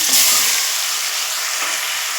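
Chicken sizzles in hot oil in a wok with whole cumin, garam masala and dried chilli, a steady close hiss with no talking.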